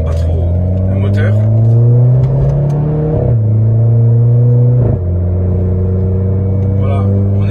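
Inside the cabin of a Renault Clio 4 R.S., the engine drones loudly and rises in pitch under acceleration, dropping sharply at two gear changes, while people talk over it.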